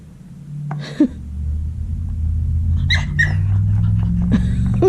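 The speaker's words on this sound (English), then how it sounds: "Oh, you're gonna bark at it?" Female dog whining and giving a few short yips and barks at a toy, close by, over a low rumbling background.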